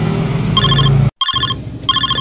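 A mobile phone rings with an incoming call inside a van, sounding three short bursts of bright electronic trilling tones that repeat with gaps, over a steady low engine rumble.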